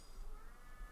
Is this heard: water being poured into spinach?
no